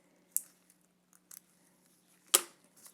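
Small clippers snip the corners off an artificial nail tip, giving a few sharp, close clicks with one louder cut near the end in an otherwise quiet room.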